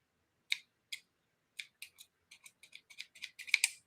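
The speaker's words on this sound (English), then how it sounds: "I'm just going to snip it down so it doesn't get in our way" Scissors snip through thread during a junk journal sewing craft: a series of crisp, close cuts, sparse at first and then quickening into a rapid cluster of snips, with no talking.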